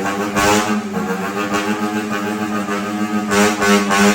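A motorcycle engine idling and blipping nearby, a deep throbbing exhaust drone with steady harmonics and brief throttle surges.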